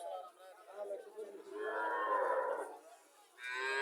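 A Haryana breed dairy cow moos in a long, drawn-out low call at a livestock market, with crowd chatter and voices around it.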